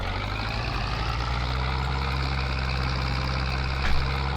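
A truck engine in Farming Simulator 22 drones steadily and loud, its low rumble holding throughout, with a brief swell near the end as the gear changes.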